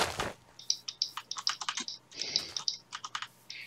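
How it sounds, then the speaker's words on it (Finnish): Rapid, uneven clicking of a mechanical keyboard being typed on at a computer during a Minecraft building session, close and alone, with a louder click at the start. "Tämän mekaaninen näppis kuuluu varmaan oikeesti tosi hyvin videolla."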